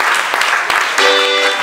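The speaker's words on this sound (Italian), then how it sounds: "un applauso" An audience at a live comedy show in Cognola, Trentino, claps steadily in a dense burst of applause, with a sustained tone rising over it toward the end.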